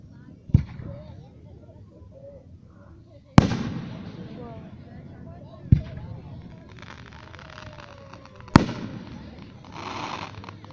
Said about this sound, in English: I'm ruining the fireworks for you.